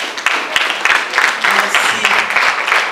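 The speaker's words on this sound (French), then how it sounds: "Sous vos applaudissements, s'il vous plaît." Audience applause at a ceremony honouring women in various professions, a steady broadband wash of clapping that holds fairly loud and even for a few seconds, with faint voices murmuring underneath.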